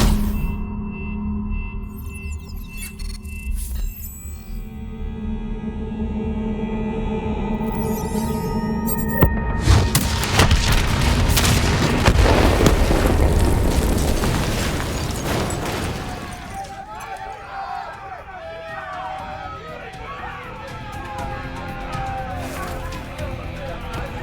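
Explosive detonations boom through a Call of Duty: Black Ops 3 battle, a loud broadband blast swelling mid-scene and rumbling on for several seconds amid game sounds and voices.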